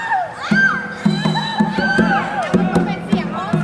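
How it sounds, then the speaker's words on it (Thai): A university cheering section at an inter-faculty match between the Engineering and Forestry faculties roars and chants together, with a steady rhythmic beat pulsing about twice a second under the massed voices. "เป็นเสียงห้องเชียร์แล้วเนี่ย"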